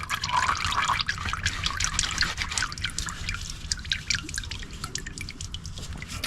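Engine oil drips and trickles steadily from the removed oil filter housing of a 2021 Buick Encore GX 1.2 turbo, a close, continuous patter of liquid falling into a drain pan throughout.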